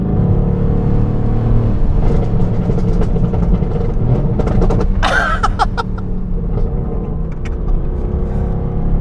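A tuned Mercedes-AMG GT R with downpipes, a Stage 1 tune and a straight-piped exhaust, heard while driving as a loud, steady low engine rumble with a brief burst of crackles midway.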